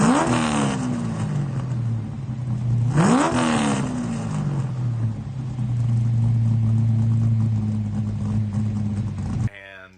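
A strong Dodge Coupe engine runs steadily close by, rising twice in brief revs before settling back to a low, even rumble.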